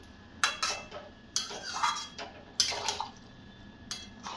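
Water from a spice-paste bowl is poured into a cooking pot of simmering curry, giving three short splashing pours with bowl clinks, close by and without speech.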